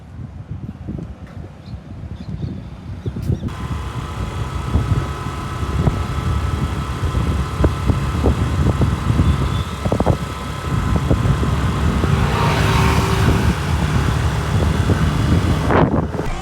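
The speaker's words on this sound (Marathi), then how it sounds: "चौकला जाताना गाडी चालवतो आता मी" A car is driven along a road on the way to a village square, with a steady engine rumble, wind buffeting the microphone and occasional knocks and rattles throughout.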